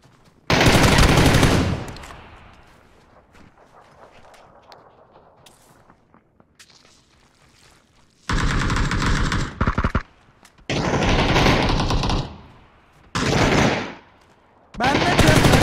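Automatic gunfire in the video game PUBG: several loud bursts of rapid machine-gun shots separated by quieter gaps with faint shuffling footsteps.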